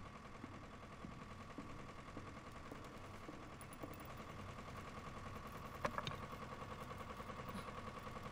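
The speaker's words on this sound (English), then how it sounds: "it's a generator. Probably what's running the entire lighthouse" A generator engine drives the lighthouse in the video game Layers of Fear, running steady and rhythmic with a mechanical chatter, fairly faint throughout with a brief clank near the end.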